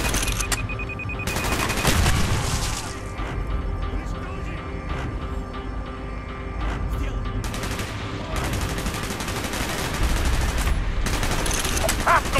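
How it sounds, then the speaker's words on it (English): Rapid bursts of automatic gunfire and fusillades rattle through a Cold War-era Call of Duty Black Ops battle, loud and sustained, with voices shouting over the shooting. "Gunfire's drawing attention."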